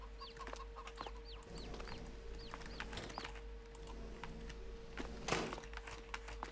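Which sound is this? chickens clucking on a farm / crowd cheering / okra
chickens clucking on a farm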